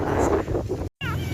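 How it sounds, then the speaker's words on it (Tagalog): A stray cat abandoned at a sports complex in San Pedro, Laguna meows once, a short nearby cry heard over loud street and outdoor noise. "At may nakita pa kami pusa dito na itinapon lamang sa may sports complex."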